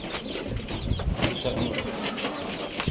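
Pigeon cooing softly beside a newly hatched chick at the nest, low murmuring coos and rustling under steady background noise, close by, with no talk.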